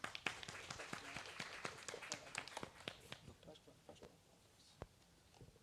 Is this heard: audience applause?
yes